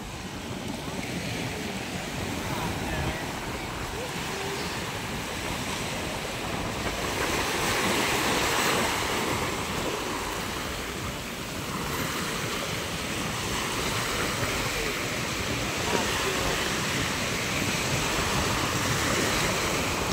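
Sea waves roll and wash at a fish terminal in Tanza, Cavite, as a strong northeast amihan wind buffets the microphone, a continuous loud rushing roar that surges and eases throughout.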